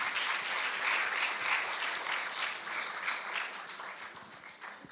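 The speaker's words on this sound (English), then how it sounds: "give a round of applause again to the panelists" An audience at an International Women's Day celebration applauds the panelists with steady, dense clapping that fills the room for several seconds, then thins slightly at the end.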